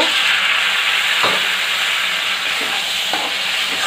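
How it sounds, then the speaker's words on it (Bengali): Spice paste with green chilies cooks in a pan with a little water, giving a loud, steady hiss and sizzle with a few soft stirring knocks close by. "অল্প জল দিয়ে আমি মশলাটা ভালোভাবে কষিয়ে নেব"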